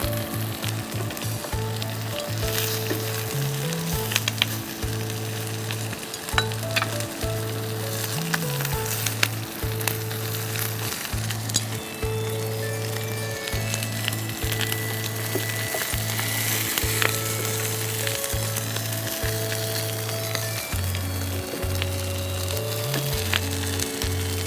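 Food sizzles and gets stirred in a pan over a long stretch, a constant frying hiss with frequent clattering stirs, while a steady tonal hum with shifting pitch runs underneath.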